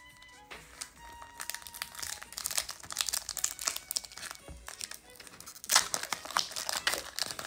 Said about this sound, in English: I remember how to open these packs now